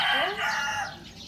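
A rooster crows once nearby, a loud drawn-out call that rises and then trails off over about a second.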